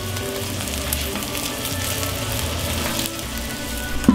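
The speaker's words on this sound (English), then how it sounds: "Now listen to that sizzle." Wagyu steak sears on a hot griddle, giving a steady, close crackling sizzle that stays even and unbroken throughout with no voices.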